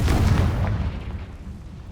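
A Confringo fire-blast spell in the Hogwarts Legacy video game detonates with a heavy, deep boom right at the start, then rumbles and fades away over the next two seconds.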